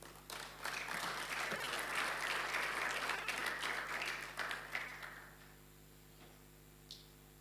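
Audience applause at a banking industry strategic plan launch event in Rwanda: a sustained burst of clapping from a seated crowd that swells quickly, holds for several seconds, then thins out and fades to a few scattered claps.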